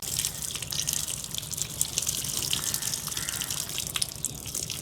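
Soaked toor dal being rinsed in water, with close, continuous splashing, dripping and sloshing of liquid in a vessel, steady and moderately loud with no talking.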